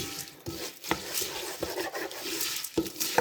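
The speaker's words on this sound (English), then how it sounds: "Just stir it in." Birdseed being stirred into a runny homemade winter bird feeder mixture, giving a steady close scraping and gritty rustle with a few sharper clicks of the spoon against the bowl.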